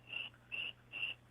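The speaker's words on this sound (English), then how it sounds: "We can hear the crickets." Insect chirping outdoors at night in a backyard, a steady high-pitched trill sounding in three regular bursts about half a second apart, fairly faint and alone with a low hum underneath.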